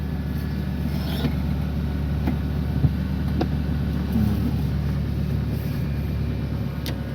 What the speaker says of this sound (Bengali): আপনি যদি 1 নাম্বার গিয়ার লাগিয়ে আবার সামনের দিকে যান